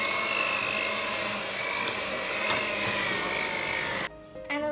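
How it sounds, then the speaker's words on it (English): An electric mixer blends sugar cookie dough in a bowl, a steady loud whir with a slight scraping rasp that runs unbroken for about four seconds before cutting off abruptly. "Now I'm going to blend it because I mixed it well with the spatula."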